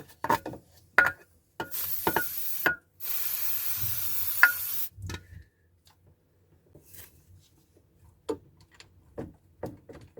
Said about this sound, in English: Start by spraying a little WD-40 on the bolts.